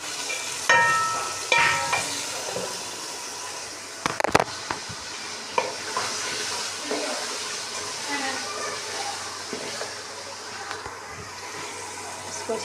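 Potatoes tossed into hot, roasted masala in a pan for hotel-style aloo palak, giving a steady broadband sizzle with sharp clatters of stirring and a few spoon knocks near the start and around four seconds, close and fairly loud.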